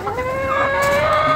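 A large, heavy-bodied rooster calls once in a short, tonal cluck close by. The sound is moderately loud and stands alone.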